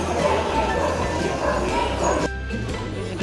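Several dogs bark and yip while queued at a free neutering event, in a noisy, echoing space, a busy overlapping chorus that continues throughout at moderate distance.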